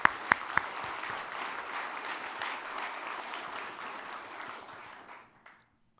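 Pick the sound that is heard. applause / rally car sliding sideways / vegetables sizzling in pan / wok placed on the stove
applause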